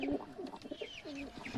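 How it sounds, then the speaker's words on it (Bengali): A golay chap pigeon coos at close range indoors, giving a series of soft, throaty, rolling calls in quick succession with no talking. "এই হচ্ছে একটা গলায় চাপ পায়রা"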